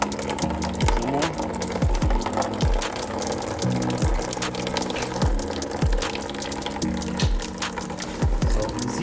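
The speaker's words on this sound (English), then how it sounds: "So water should be gushing out and not just drip like this." Water trickles and drips from a BMW X5 radiator during a radiator replacement in a garage, a continuous wet splashing broken by repeated short mechanical knocks, with faint talk underneath.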